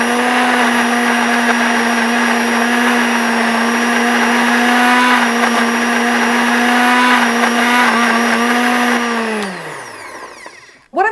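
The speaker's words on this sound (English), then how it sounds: "So we'll switch the blender on." A kitchen blender pureeing tomatoes runs at a loud, steady whine for about nine seconds, then winds down as it is switched off, with no talking.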